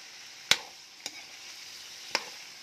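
A knife chops firm raw carrots into decorative flower shapes, three sharp, crisp cuts spaced unevenly and heard alone against a quiet background.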